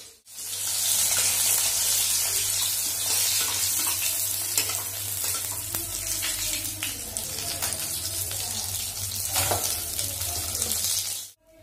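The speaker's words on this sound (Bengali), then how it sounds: "মাছ ভাজা হচ্ছে" Fish fries in a pan with oil sizzling in a steady, close, continuous crackle and occasional stirring, with a low hum beneath.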